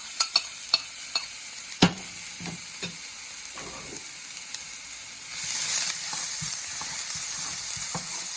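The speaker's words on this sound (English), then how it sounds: "after oil is hot, add the ginger garlic" Chopped ginger and garlic stirred and frying in hot oil for a Nepali-style Szechuan sauce, a steady close sizzle with scattered utensil clinks early on, the frying hiss growing louder and fuller partway through.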